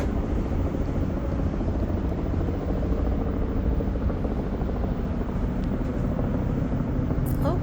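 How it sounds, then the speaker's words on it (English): Helicopter droning steadily in the air near New York, heard from a cruise ship balcony; a continuous, fairly loud rotor and engine rumble fills the whole stretch without letup. "Helicopter in the air."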